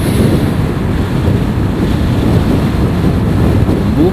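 Steady loud wind buffeting the microphone while riding a motorcycle through Dahilayan Forest Park, a constant low roar with no talking.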